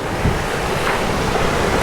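Ocean waves rush past a sailboat running downwind in following seas on a transatlantic passage, with steady loud wind noise buffeting close over the surf.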